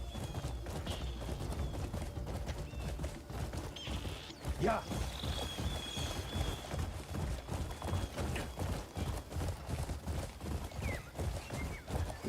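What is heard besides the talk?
horse hooves clip-clopping in Crimson Desert video game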